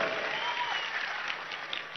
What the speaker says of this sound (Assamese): সকলোৱে হাত চাপৰি